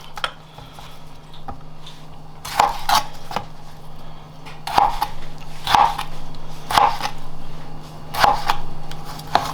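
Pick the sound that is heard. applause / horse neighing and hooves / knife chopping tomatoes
knife chopping tomatoes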